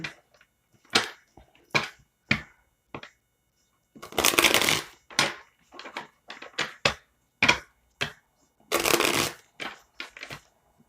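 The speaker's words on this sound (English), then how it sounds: "I'm going to shuffle this deck 5 times." A deck of cards being shuffled repeatedly, with sharp riffle bursts and quieter pauses between them, close and clear throughout with no talking.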